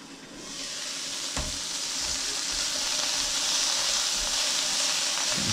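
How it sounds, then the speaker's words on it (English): Bok choy sizzles and hisses steadily in a hot pan, with a utensil clanking once as it is stirred, the frying noise close and constant throughout. "stirring it occasionally until the bok choy starts to soften"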